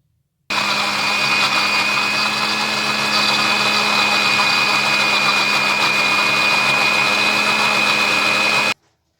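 A blender grinds green coriander and ginger chutney in a steady, loud, continuous whir with a constant motor tone. It runs unbroken for about eight seconds, then stops abruptly.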